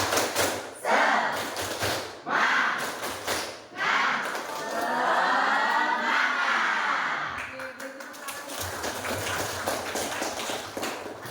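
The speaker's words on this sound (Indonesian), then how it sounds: "Seperti biasa, tepuk semangat dulu." A classroom of pupils performs a rhythmic spirit clap, groups of sharp claps and thumps in patterned bursts, then a stretch of children's chanting voices before the clapping resumes, moderately loud in a room.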